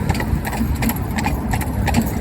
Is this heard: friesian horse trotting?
yes